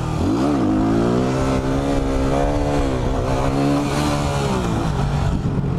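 A sportbike revving hard in second gear for a wheelie, its engine pitch climbing, dipping and rising again in close, loud, continuous sweeps.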